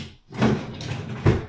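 A bedroom furniture drawer that sticks and slides poorly is pulled along its runners: a rough scraping glide lasting about a second, ending with a firmer knock, close and alone with no talk.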